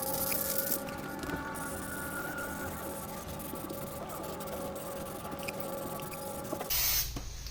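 Plastidip sprays in a steady, fairly quiet hiss as a thick wet coat goes onto the aluminum wheels of a 2014 Toyota Tundra, continuous for several seconds with a brief louder burst at the end.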